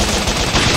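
Rapid machine gun fire from the Bot Vice video game, a dense continuous burst of loud, close shots lasting under a second with no pauses.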